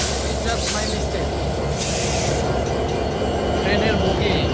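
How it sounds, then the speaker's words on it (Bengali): A large train stands at a crowded Rajshahi railway platform, giving a steady, loud rumble of engine and carriages under a dense wash of crowd noise, with no clear individual voices. "ট্রেনের বগি, এটা হচ্ছে ট্রেনের ইঞ্জিন।"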